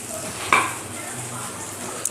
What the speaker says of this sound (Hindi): इसको अच्छे से मिक्स भी कर लेंगे